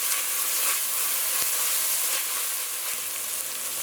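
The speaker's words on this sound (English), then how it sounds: "I'll give this a mix and allow it to sweat until those aromatics are tender." Aromatics sautéing in a pot for Trini bhagi rice give off a steady, dense sizzling hiss, close and fairly loud, with a couple of faint knocks from stirring.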